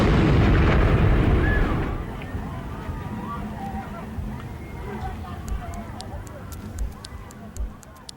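A homemade pipe bomb packed with nails and screws goes off at the Olympic bombing: a loud, deep blast at the start rolls off over about two seconds, then a crowd murmurs and voices carry in the background.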